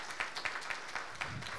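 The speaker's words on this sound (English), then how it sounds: "a huge round of applause for all our panelists" Conference attendees give panelists a brief round of applause, soft and somewhat distant, with scattered individual claps audible in the short burst.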